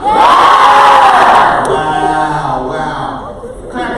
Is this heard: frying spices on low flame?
no